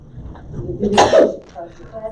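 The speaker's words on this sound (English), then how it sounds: "Sorry, I was sneezing" A single sharp sneeze bursts out in the middle of talk at a city council meeting, loud and close on the microphone, with speech continuing around it.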